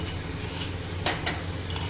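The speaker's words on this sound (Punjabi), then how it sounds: "ਥੋੜਾ ਜਿਹਾ ਕੁੱਟ ਕੇ ਲਸਣ ਪਾਇਆ" Crushed garlic frying in hot oil in a pan for macaroni, a steady close sizzle with a few sharp stirring scrapes on top.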